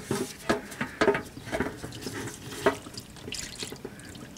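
Transmission fluid drips and trickles from the loosened oil pan of a GMC Savana, close irregular liquid spatters and patters with some metallic taps, fairly quiet and with no talk.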